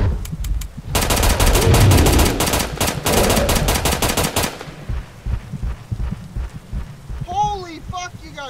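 Rapid automatic gunfire rattles in dense bursts in a Roblox shooter game, then fades into lighter clicks and electronic game tones while players shout over it.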